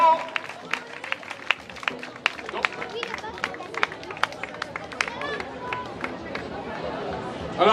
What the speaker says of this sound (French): Vous pouvez applaudir Arthur.